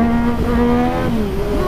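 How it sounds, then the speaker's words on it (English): Yamaha 900 LC motorcycle accelerating hard through first into second with traction control off, lifting into power wheelies; a loud, steady engine note climbs and then shifts over a short burst, with no talking. "Massive power wheelies in first to second."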